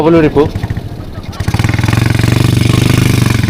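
An ATV engine idles and revs with a steady rapid pulse after a brief burst of speech at the start.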